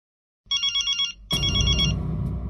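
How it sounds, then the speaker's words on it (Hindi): A telephone rings in a Hindi sitcom household, a quick run of bright electronic trills, a pause, then a louder burst as a noisy scene of voices and commotion swells in underneath. "इस वक्त किसका फोन आ गया?"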